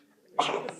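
A single sharp sneeze bursts out close by after a quiet moment, with a brief breathy tail trailing off.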